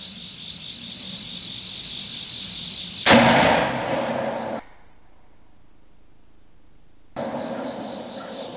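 A single loud gunshot from a .50 AE pistol firing a 325-grain round over a chronograph outdoors, a sharp broadband crack followed by a brief decaying tail, with insect chirping in the background.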